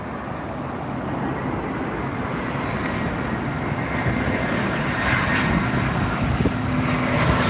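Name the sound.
Aer Lingus airliner landing at Heathrow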